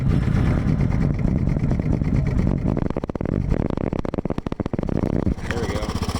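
A Yamaha Big Bear 350 ATV engine turns over and catches on choke, its strong continuous low rumble giving way to rapid, uneven firing pulses and revving close by, with no speech over it.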